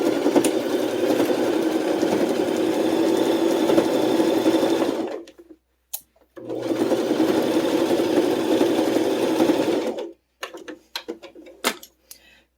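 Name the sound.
sewing machine stitching fabric backwards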